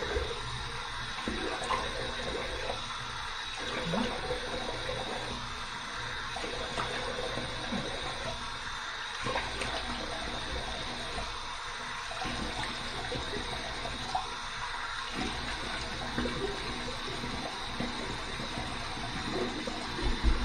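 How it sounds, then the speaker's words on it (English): Warm water runs steadily from a shower or tap, rinsing a freshly shaved head, a continuous splashing wash with slight pulsing as the flow moves over the scalp. "Here's my warm water rinse."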